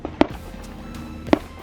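Two sharp gunshots crack at an indoor shooting range about a second apart, each a brief loud report over a quiet background.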